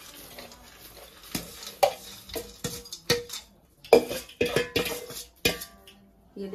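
Dry fruits, nuts and raisins stirred together in a metal pot, giving a series of scraping, clinking spoon strokes with irregular rhythm, close and moderately loud, no voices.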